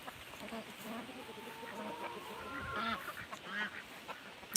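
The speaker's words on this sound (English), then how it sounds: "this is what happy free-range chickens look like" Free-range chickens on a farm cluck and squawk in a busy flock, several birds calling over one another at close to moderate distance with a steady outdoor background.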